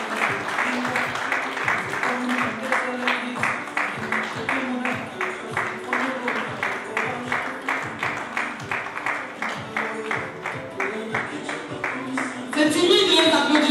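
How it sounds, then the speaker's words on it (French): Guests at a civil wedding clap in a steady, rhythmic beat as the groom enters the room, sustained and fairly loud, with music and voices underneath and cheering swelling at the close. "C'est timide les applaudissements là"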